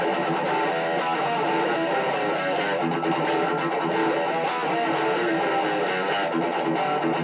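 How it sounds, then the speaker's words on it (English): Distorted electric guitar plays the first bridge riff of a song, a dense, steady run of chugging power chords with busy rhythmic accents, loud and close with no talking. "So the first riff in the bridge sounds like this."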